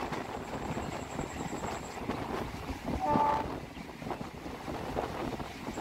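Hasnabad Local passenger train running along its line in West Bengal, a steady broadband rumble of wheels on rails with wind buffeting throughout and a brief tonal whine midway, no voices.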